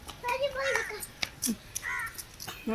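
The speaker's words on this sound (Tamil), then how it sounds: "தள்ளி நின்னாதான் காக்கா வரும்" Crow cawing in an outdoor spot, a few short harsh calls rising amid children's chatter and a voice nearby.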